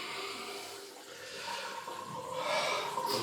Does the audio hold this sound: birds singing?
no